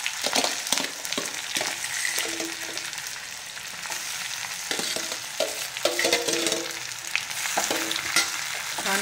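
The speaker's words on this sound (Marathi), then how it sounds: "आता आपण ही भाजी टाकूया त्याच्यात" Ambadi greens frying in a pan with sautéed onion, a steady close sizzle broken by frequent stirring scrapes and clatters of a spoon against the pan.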